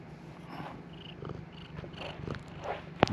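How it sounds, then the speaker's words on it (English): Missy the cat purrs softly and close, a low rumbling purr pulsing steadily in a quiet room, ending with a brief sharp click. "She is purring away."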